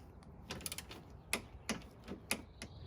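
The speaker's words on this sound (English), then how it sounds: "We're going to use an inch-pound torque wrench" An inch-pound torque wrench tightens a bolt during timing belt work on a Toyota/Lexus 2UZ-FE 4.7-liter V8, giving a few quiet, irregular ratcheting clicks close by in a hushed workshop.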